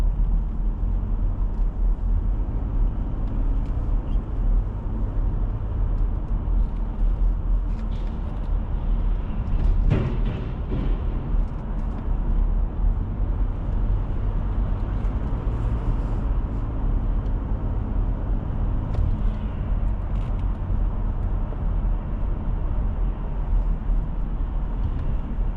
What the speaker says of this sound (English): these vehicles coming in here, coming off the Grand Central Parkway